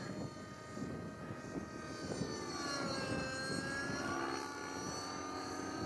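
A T-REX 600 RC helicopter flying a loop in idle-up mode, its rotor and motor whine rising and falling in pitch as it moves through the air at a moderate distance, with no talking.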